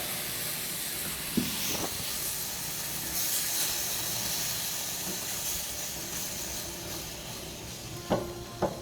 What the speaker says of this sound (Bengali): এখন হচ্ছে এর মধ্যে অ্যাড করে দিচ্ছি আমুল তাজা দুধ